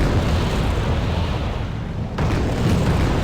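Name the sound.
artillery explosions in the video game Wargame: Red Dragon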